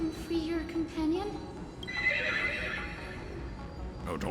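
A horse in the Honkai Star Rail video game, a corrupted moon horse, gives a loud whinny with a rising, wavering call, and its hooves clop beneath it. A brief stretch of the game's ambience fills the rest, with no talk over it.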